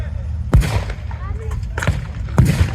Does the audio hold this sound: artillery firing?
yes